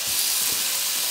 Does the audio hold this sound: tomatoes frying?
yes